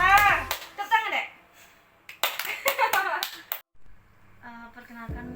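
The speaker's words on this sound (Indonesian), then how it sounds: "Tepuk tangan, Dek." A young child and an adult clap hands together, several short bright bursts broken up by adult speech, with a final burst of clapping at the end. The setting is a children's health education session.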